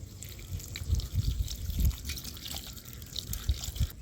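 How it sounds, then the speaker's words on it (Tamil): Cold water runs and splashes close by over soya chunks in uneven bursts, with soft drips and gurgles over a low background rumble. "இது மேலே அப்படியே பச்சை தண்ணி ஆட் பண்ணிக்கலாம்."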